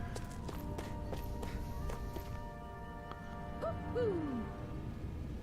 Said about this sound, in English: We have the most unusual sounding owls in this game.